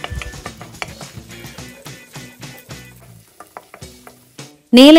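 Garlic and ginger sautéing in butter, a utensil clinking and scraping in the pan in irregular strokes, ending in a sudden loud burst.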